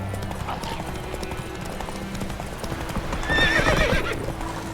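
Roach, a horse in The Witcher 3, galloping with steady hoof clip-clops under game ambience and a brief whinny near the end.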